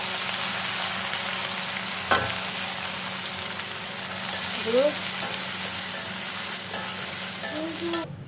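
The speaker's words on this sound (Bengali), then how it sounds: "এই তেলের মধ্যে আমার পানি ঝরানো চিংড়ি মাছ দিয়ে দিই।" Continuous close sizzle of shrimp frying in hot oil, with a few sharp clatters and scrapes of stirring over the steady hiss.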